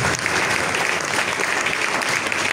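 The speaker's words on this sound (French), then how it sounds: "Clap for Jesus." A church congregation at a deliverance prayer service breaks into loud, sustained applause, a dense crowd of clapping hands filling the room without a pause.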